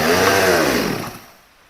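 A Stihl chainsaw, just tuned at the carburetor, restarts with a loud, close, high-revving buzz that quickly winds down and fades within a second or two.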